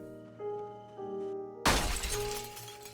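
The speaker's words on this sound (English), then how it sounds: "Cut myself smashing that window." In the video game Project Zomboid, a window is smashed with one loud, sudden crash of shattering glass. Quieter tonal game sounds play before it, and the shards fade out in the following second.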